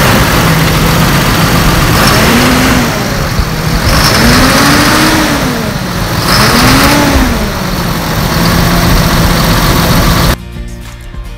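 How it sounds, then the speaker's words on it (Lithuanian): A 7 Series tractor engine runs loud and close, idling steadily and then revving up and down several times in smooth rising and falling swells before cutting off abruptly near the end. "Kas man labiausiai patinka pas šitą traktorių, tai garsas."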